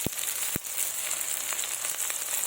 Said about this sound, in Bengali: রসুনের কুচি সব আমি তেলের মধ্যে দিয়ে দেবো